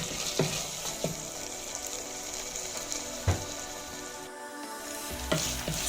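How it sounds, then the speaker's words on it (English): Minced beef with tomato paste frying and being stirred in a pan, giving a steady close sizzle broken by a few soft scraping stir knocks. "So I'm going to give it a good stir and let it cook well"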